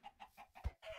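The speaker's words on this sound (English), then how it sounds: "Come back here, my chicken." A Minecraft chicken clucking in a short run of soft, evenly spaced clucks, close and fairly quiet, with no talking over it.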